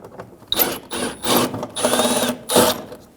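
A power tool backs out 7mm screws from the front fender liner of a Ford Focus, with several short, close whirring bursts separated by brief pauses.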